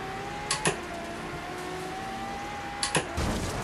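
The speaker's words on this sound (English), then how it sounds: "The car sounds amazing." Race car engine in Forza Horizon 3, a steady whining tone that slowly climbs in pitch, with a few sharp knocks and clunks at intervals.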